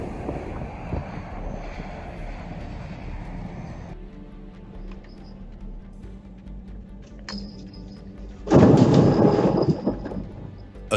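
A thunderstorm rolls over Texas with a constant wind-battered rumble and rain, and a loud, close crack of thunder bursts out near the end.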